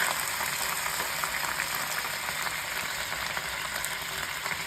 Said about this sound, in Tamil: இப்போ லேசாக வதக்கிக்கலாம்